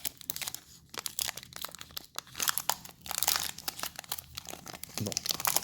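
Crinkling plastic foil of a Pokémon booster pack being torn open, with a run of close, sharp crackles and tearing bursts continuing throughout.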